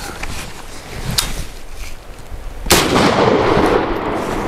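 An AK pistol firing with a muzzle fireball outdoors in chilly weather: a couple of sharp, loud reports, the strongest about midway, with shuffling and low background noise around them.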